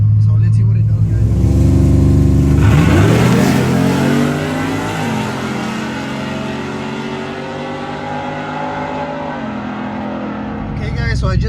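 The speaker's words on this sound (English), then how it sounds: "so I just did my third pass with the Flying Ryan tune" A tuned car launches on a test pass, its engine roaring loudly as it winds up through several rising sweeps and gear changes, holding close and strong for most of the run before revving again at the end.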